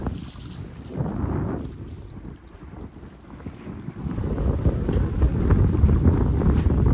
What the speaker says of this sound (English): Say, Gerald, about 10 knots of wind there now?